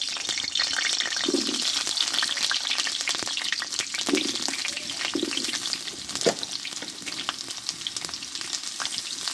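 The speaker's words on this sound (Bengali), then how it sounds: "এতে কিছুটা আমি সর্ষের তেল দিয়ে দেবো দিয়ে কেটে রাখা আলুগুলো আমি কষে নেবো আগে" Cut potatoes frying in hot mustard oil, sizzling steadily and close by, with occasional stirring scrapes and clacks against the pan and no talking.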